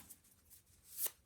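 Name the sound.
shuffling tarot cards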